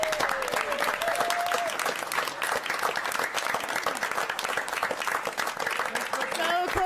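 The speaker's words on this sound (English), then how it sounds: "I would just ask that we stand, clap you guys out" Audience at a city council meeting claps steadily and energetically, a dense, even patter of hands with cheering and voices mixed in throughout.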